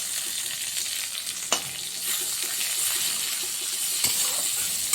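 Chopped onion sizzles in mustard oil tempered with nigella seeds and dried chillies in a kadai. The hiss is continuous and close, broken by a couple of sharp clinks of a stirring utensil against the pan.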